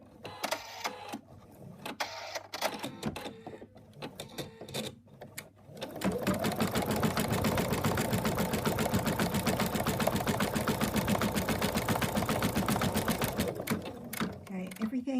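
Someone talks briefly with a few clicks, then an embroidery machine starts stitching an in-the-hoop elephant's right arm, a fast, steady mechanical chatter that runs loud and even to the end.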